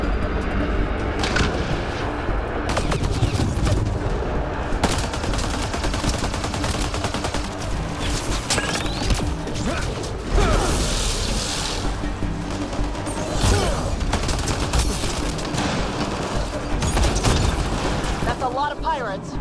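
Gunfire in the sci-fi shooter Mass Effect: Andromeda crackles and booms in dense, continuous bursts during a firefight with pirates, loud and layered under game music and characters talking.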